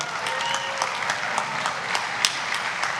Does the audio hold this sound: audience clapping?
yes